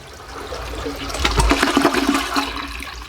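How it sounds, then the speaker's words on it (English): A toilet flushes loudly nearby as the tank drains, with a rising rush and gurgle of water that swells in the middle and then tapers off, with no talk. "Next thing, flush the toilet."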